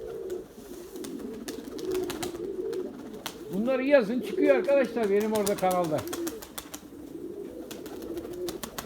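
Domestic Erzurum white pigeons cooing, a burst of throaty rolling coos rising in the middle, close and clear, between stretches where someone talks over faint bird sounds.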